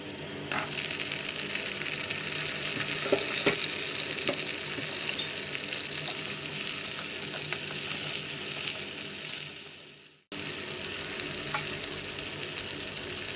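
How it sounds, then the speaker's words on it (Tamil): Onions and tomato sauté in oil for garlic kuzhambu, giving a loud, continuous hiss with occasional stirring clicks up close, broken by one brief cut before the sizzle resumes. "வெங்காயமும் தக்காளியும் எண்ணெயில் நல்லா மசிஞ்சு வர்ற அளவுக்கு நாம் வதக்கி எடுத்துக்கணும்"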